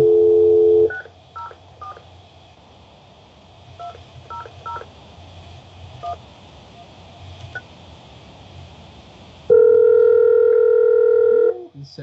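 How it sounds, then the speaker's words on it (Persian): Telephone tones on a TV call-in line: a short tone burst at the start, then a scattering of quick dialing beeps over faint background, then a loud steady tone lasting about two seconds near the end. "صدای تلفن ماشاءالله خیلی بود"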